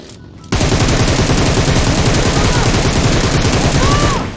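Sustained automatic gunfire from a PUBG Mobile match erupts after a brief quiet start, with loud, rapid, continuous bursts that run to the end.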